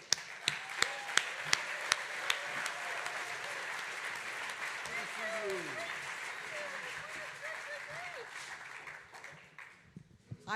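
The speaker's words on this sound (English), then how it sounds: "we just want to give her a round of applause" At a Malcolm X birthday tribute, an audience gives an award recipient a sustained round of applause that opens with sharp nearby claps and then settles into a steady crowd wash mixed with murmuring voices before fading.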